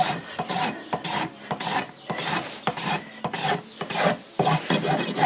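Farrier's rasp filing a horse's hoof wall during a trim, loud close rhythmic scraping strokes repeating roughly every half second with short pauses between passes.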